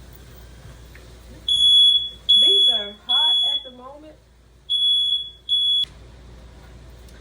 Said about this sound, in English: I don't know why my smoke alarm's going off.